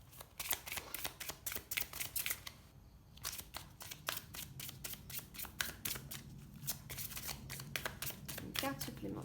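Tarot cards shuffle in quick repeated riffling bursts, close and crisp, with a brief pause before the rapid flicking resumes, while someone talks quietly underneath during a reading.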